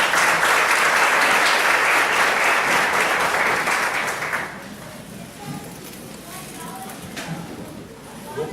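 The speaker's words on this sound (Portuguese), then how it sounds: "Uma salva de palmas para a palavra de Deus." A church audience at a youth retreat claps together in loud, dense applause for about four seconds, then it dies away into quieter room noise with a few scattered sounds.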